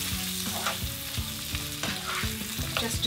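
Cubed peppers and onion fry in a pan with a steady close sizzle, broken by several stirring scrapes and clinks of a utensil against the pan.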